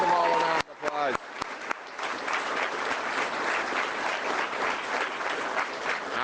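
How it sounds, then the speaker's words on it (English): A campaign rally crowd bursting into sustained applause right after a voice, dense clapping that holds steady and loud across the room. "Give them all a round of applause."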